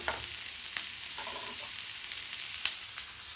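Small shallots fry in oil for a Tamil dry fish curry, producing a steady close sizzle with light stirring clicks.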